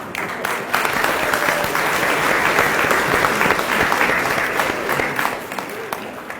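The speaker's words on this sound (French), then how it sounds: "sous vos applaudissements" Sustained audience applause at the opening of the 50th Salon des artistes de Châtillon, a dense, even wash of clapping from a large indoor crowd lasting throughout.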